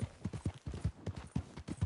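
A filly's hooves clip-clop at a steady trot in Red Dead Redemption, a quick, even rhythm of soft hoof knocks, fairly quiet and without voices.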